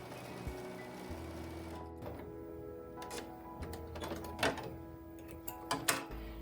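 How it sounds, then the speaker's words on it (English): A sewing machine stitching along the edge of a fabric bag, with a steady mechanical hum and soft rapid needle ticking, broken by a few brief pauses and light clicks as the fabric is guided. "I'm sewing about 1/4 inch away from the edge"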